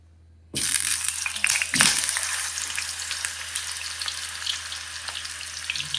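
Raw plantain pieces drop into hot oil and burst into loud, crackling frying that starts abruptly after a brief silence, then settles into a steady sizzle.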